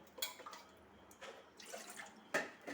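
Water added to a cooking pot arrives as faint, scattered splashes and drips, a few brief spatters spread across a quiet kitchen background.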